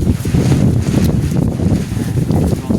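Wind buffets the microphone outdoors in a steady, loud low rumble with gusty fluctuations, heard alone without talk.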